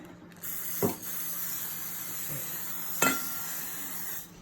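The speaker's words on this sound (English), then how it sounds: "We wanna spray them so they can proof more." A steady, fine hiss of a spray bottle misting pandesal bread dough runs for several seconds, with a couple of soft clicks or bumps from the bottle partway through.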